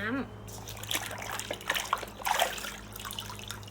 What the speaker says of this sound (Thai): เมื่อเราขัดทำความสะอาดรองเท้าเรียบร้อยแล้วนะคะ ก็ให้เอามาล้างน้ำเปล่าค่ะ